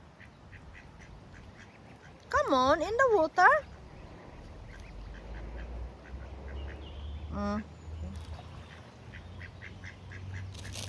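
A duck gives a loud run of rapid, nasal quacks on water near a swan family, then a brief second call comes later, while a person talks quietly over faint ambient noise.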